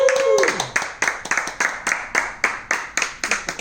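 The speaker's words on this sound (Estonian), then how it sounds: "nii et aplaus!" An audience in a sculpture studio claps in steady, rhythmic unison, a string of evenly spaced loud claps.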